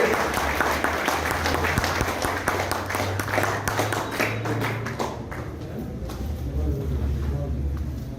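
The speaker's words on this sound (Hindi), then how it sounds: "आप लोग जरा एक बार जोरदार तालियां बजा कर उनका सम्मान" At a Hindi kavi sammelan honouring Raja Nahar Singh's martyrdom day, the crowd breaks into loud, sustained applause as a poet comes to the stage, with a low hum and some voices underneath.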